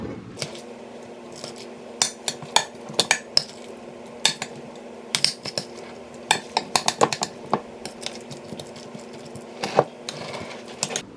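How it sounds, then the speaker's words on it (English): Excess mashed potatoes being spooned into a second baking pan: repeated sharp clinks and scrapes of a metal spoon against the pan, irregular and close, with no talking. "I'm gonna put the excess potatoes in here and just make a 2-pan situation"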